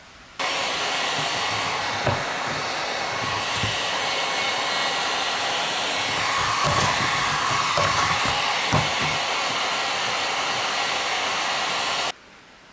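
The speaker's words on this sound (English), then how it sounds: "I think I'm going to try to put a heat gun to it and see if I can't straighten it out a little bit" Heat gun blowing hot air onto bent pop-up camper roof trim, a continuous loud rushing whir held for about twelve seconds with a few faint knocks and handling clicks underneath.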